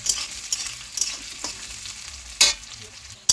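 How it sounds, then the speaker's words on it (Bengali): Chopped onion frying in a pan for a home chicken curry, a soft steady sizzle with scraping stirs and a few sharper clatters of the spatula, fairly close and alone. "এটা হালকা একটু লাল করে ভেজে নেবো, ঠিক আছে? বেশি ভাজবো না।"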